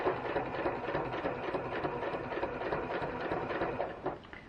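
A quilt project is sewn on a machine, a close, steady whirring hum of continuous stitching with a fine rapid patter through it, dropping off slightly at the end.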